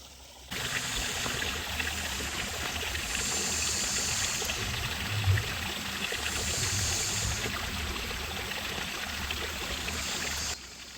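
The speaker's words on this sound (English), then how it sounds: "We do have some trickling coming in underneath the log." Water trickles and pours through a backyard pond bog filter, a steady close splashing flow that starts abruptly, holds constant for about ten seconds with a brief low thump midway, then cuts off.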